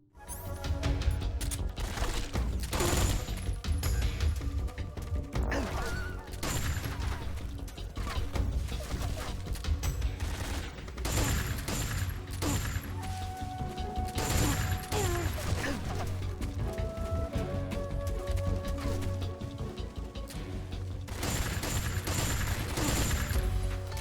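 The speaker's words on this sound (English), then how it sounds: "Oh fuck, they're already shooting at me" Gunfire during combat in Metal Gear Solid 3 on PC, with repeated sharp shots, impacts and crashes throughout a long tense exchange over steady game ambience.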